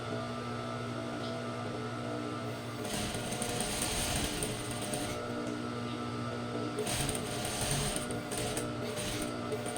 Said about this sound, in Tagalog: daanan natin siya ng machine. So, ang gamit ko po dito is high-speed sewing machine